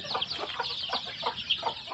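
Chickens of all sizes, big hens and little chicks, cluck and peep in a busy, continuous chatter at close range with no talking.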